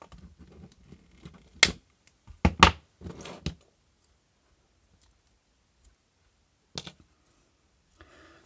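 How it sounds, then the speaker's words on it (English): A few sharp snips and clicks as cutters cut a module out of an exploded Hager RCBO circuit breaker, a cluster of close crunching cuts followed by one isolated click and long quiet gaps. "I'm just going to cut this module out."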